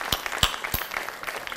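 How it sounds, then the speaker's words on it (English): Applause at a pitch competition: a brief, moderately loud patter of clapping with a few sharper individual claps standing out near the start. "A big applause."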